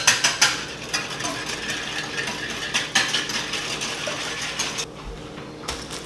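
A whisk beats a mixture of vanilla and cinnamon in a bowl with quick, rhythmic clinking strokes that repeat steadily, then stop briefly before a last few taps.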